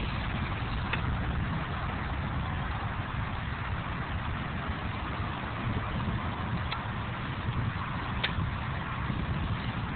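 A 16 gram CO2 cartridge inflates a bicycle tire with a steady, unbroken rushing hiss at low-to-moderate level, with a few faint clicks along the way.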